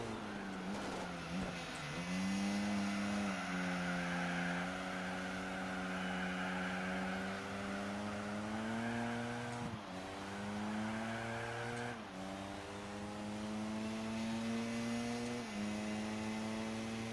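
In the Gran Turismo 4 racing game, a race car's engine revs hard through rising gear pulls with nitrous boost, its pitch climbing and dropping at each shift in a steady, droning whine with no talk.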